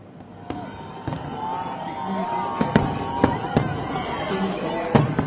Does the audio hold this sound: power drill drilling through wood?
no